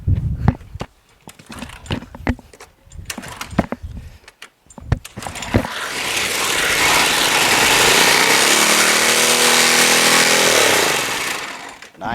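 A Craftsman lawn mower with a Briggs & Stratton 6.75 Quantum engine fitted with an auto-choke carburetor is cranked over several times between bursts of talk, then catches and runs steadily and loudly, close by, for about six seconds.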